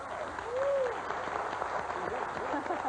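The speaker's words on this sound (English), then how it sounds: "Little applause." A studio audience on a 1991 talk show gives a moderate round of applause, a continuous soft patter of clapping that stays fairly even, with a brief voice rising over it.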